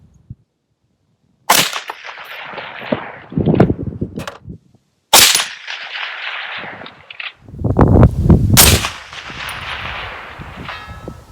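Several loud rifle shots from an IWI Tavor 7 bullpup in .308 firing cheap military ammunition at a 500-yard target outdoors, each sharp crack followed by a rolling echo, spaced a few seconds apart with no talking.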